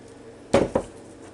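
Chopped onions tipped into a bowl for tuna salad, giving two quick, close clattering knocks of the container and utensil in otherwise quiet surroundings.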